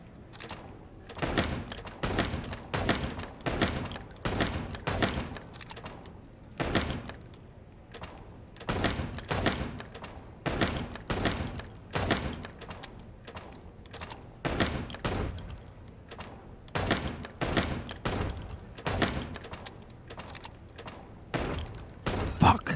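Video game shooting gallery gunfire: sharp single shots and short bursts repeat irregularly throughout, loud and close, with brief pauses between volleys.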